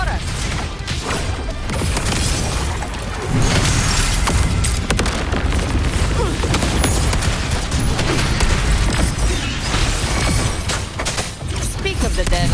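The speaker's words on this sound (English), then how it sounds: "Another mortar thrown at us." Loud, dense game combat in Wuthering Waves, with booming mortar fire and explosions layered over continuous music and effects, speech partly audible throughout.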